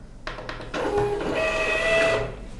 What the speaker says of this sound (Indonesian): kita akan coba ya save test print sekali lagi untuk memastikan printer bekerja dalam mode apa